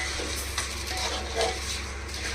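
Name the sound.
stirring biryani rice mixture in a kadai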